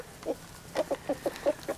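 Chickens eating pizza cluck softly in a quick series of short, low calls, about seven in a row, fairly close with a quiet background.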